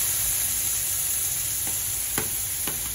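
Garlic frying in a pan, a steady close sizzle with a few short scraping stirs near the end.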